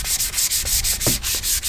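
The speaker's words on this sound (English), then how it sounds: "I then sanded it off down to a 320 grit." Sandpaper rubbing rhythmically across a paddle to strip paint, 320 grit, in steady back-and-forth strokes with brief pauses between passes, close and fairly loud with no talk.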